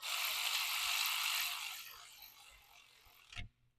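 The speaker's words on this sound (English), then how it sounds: "now you can tighten the screw with a new washer" Ratchet tightening the oil drain screw on a Mercedes GLC300 during an oil change: a fast, close, continuous whirring clatter that fades over two seconds and ends with a single click, no talking.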